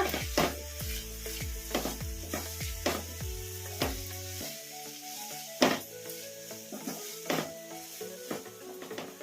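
Fried masala being stirred with a spoonful or two of tomato ketchup in a pan, with repeated scraping strokes and knocks of the spoon against the metal over a soft sizzle, close and clear.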